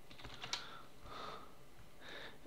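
Someone types the search term gameconfig on a computer keyboard while searching for GTA 5 mod files: a few close key clicks in a short burst with no talk.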